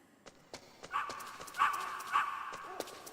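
Video game dogs bark in Metal Gear in about three short yelping barks at moderate level over a low background hum.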